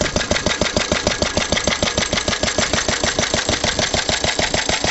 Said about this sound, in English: the old Lister D's been, I don't know, maybe running for about an hour now